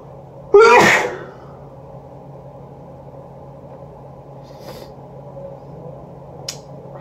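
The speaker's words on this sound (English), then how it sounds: "with all this sneezing, I feel like I'm allergic to peach" A single loud, close sneeze bursts out near the start, followed by quiet room hum and a couple of faint small clicks.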